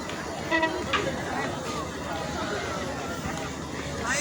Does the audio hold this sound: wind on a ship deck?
no